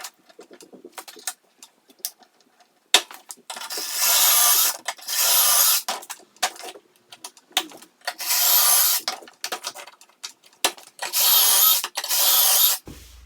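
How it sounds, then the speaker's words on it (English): Power drill boring pocket screw holes into wood for a tool cabinet, in several loud sustained bursts of a few seconds each, separated by short pauses filled with clicks and handling knocks. "So let's get drilling."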